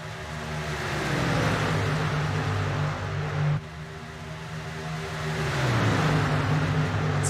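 Racing trucks in the 2022 A's Lawn and Landscaping 150 roar down a back straightaway, a loud sustained engine drone whose pitch shifts and dips as the trucks pass close by.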